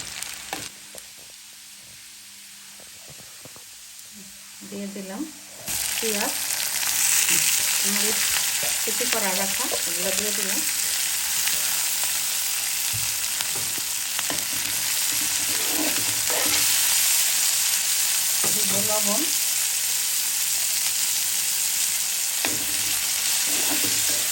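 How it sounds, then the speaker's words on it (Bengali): Garlic sizzles steadily in hot oil in a pan for a tomato chutney, the frying hiss jumping louder after a few seconds and continuing throughout, with occasional stirring scrapes. "রসুনটা একটু বাজা ভাজা হয়"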